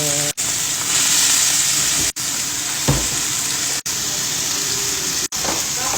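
Crab meat sizzles and fries in plenty of oil in a pan, a loud, continuous crackling hiss with occasional stirring scrapes, broken by several short cuts, and no voices over it.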